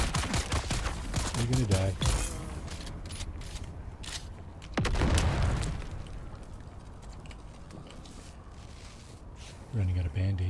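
Grenade blasts in the Dune: Awakening video game, loud booming bursts near the start, middle and end, with gunfire-like pops and a voice talking over the action.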